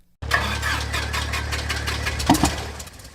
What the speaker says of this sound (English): An airplane has an engine, which is commonly referred to as a power plant.